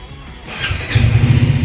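A Triumph Speed 400 motorcycle engine cranks and catches, a rising low mechanical rumble that settles into a steady, close idle with a faint whine on top.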